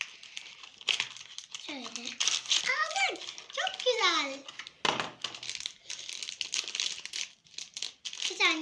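A BİM snack package is torn open by hand, its plastic wrapper crinkling and crackling loudly and close up in repeated bursts, mixed with a few ripping sounds.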